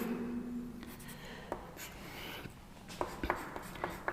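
Chalk or marker writing out a chemical formula on a board, soft scratchy strokes with short taps, quiet and close, with a faint hum underneath.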